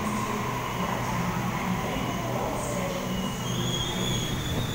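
A Sydney Series 1 Waratah electric train sits in an underground station, giving a steady rumble and hum with faint high squeals and hiss, loud and continuous throughout.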